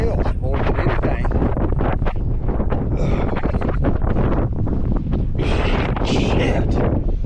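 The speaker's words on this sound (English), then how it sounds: "That wind is brutal." Strong, brutal wind on the Gulf coast over a compacted-shell shoreline, buffeting a microphone in loud roaring gusts that surge and drop unevenly, with short bursts of people talking between gusts.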